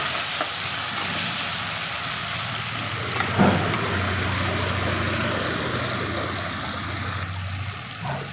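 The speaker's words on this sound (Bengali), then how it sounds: "টমেটো কুচিটা দিয়ে একটু নাড়াচাড়া করে নেব" Continuous close sizzling of chopped tomato frying in a pan, with a brief scrape of stirring partway through and no voices.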